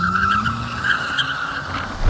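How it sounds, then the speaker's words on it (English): A Kia Stinger GTS with a turbo engine spins its tires at launch, giving a loud, steady, close squeal with the engine droning beneath it. "We're just burning the tires."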